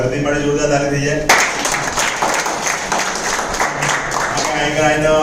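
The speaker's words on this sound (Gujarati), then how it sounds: "એટલે ભરતી માટે જોરદાર તાળી થઈ જાય." An audience at a business gathering in a hotel hall bursts into loud applause that starts suddenly after a voice and continues as a dense, sustained clatter of clapping.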